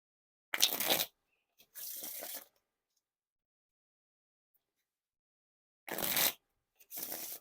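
Four short bursts of crisp, fluttering riffle shuffles of a Red Chancers playing card deck, two early and two late, separated by a long silence.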